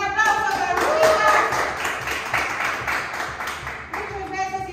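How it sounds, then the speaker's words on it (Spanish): Clapping and applause for a dancer at a beginner cumbia dance workout class, a steady patter of hand claps filling the clip with voices talking over it. "¡Un aplauso para Lupita!"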